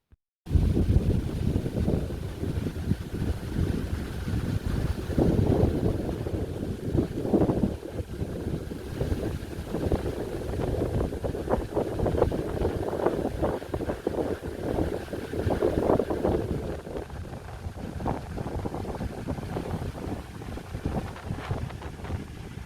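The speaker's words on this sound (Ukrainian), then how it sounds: "Вітер піднявся" Gusty wind rushes and rumbles against the microphone in uneven surges, with a faint steady hum behind it and no talking.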